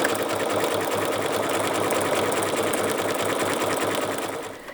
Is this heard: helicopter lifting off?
no